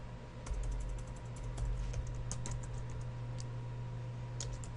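Close keyboard typing while coding in Visual Studio, with quick irregular key clicks in bursts over a steady low hum.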